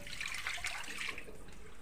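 Tap water runs into a pot to make broth for pork sinigang in a home kitchen. The trickling splash is faint and brief and stays steady for under two seconds.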